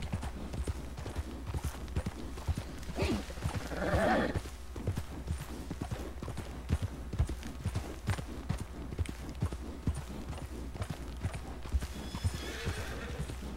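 A wild Arabian horse in Red Dead Redemption 2 clip-clops steadily over rough mountain ground and lets out a sharp whinny partway through, its rhythmic hoofbeats close and clear over quiet ambience.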